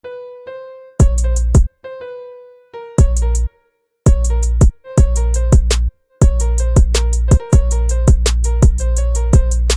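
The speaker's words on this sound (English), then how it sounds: "I just used an upright piano from the Contact Factory library." Loud sampled upright piano chords from a Contact Factory library struck in a rhythmic pattern with crisp attacks and deep bass, broken by short silences between phrases.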